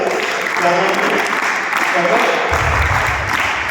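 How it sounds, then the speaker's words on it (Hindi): A scout camp audience claps loudly in a thick, continuous burst, with voices talking over the clapping and a low rumble joining in partway through. "जोरदार ताली बजाओ तो इसके लिए एक बार।"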